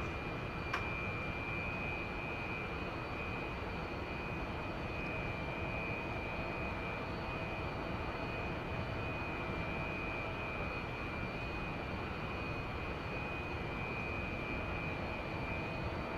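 Su-27 jet engine in the DCS flight simulator, a continuous even roar with a high steady whine, held at constant level throughout with no talking.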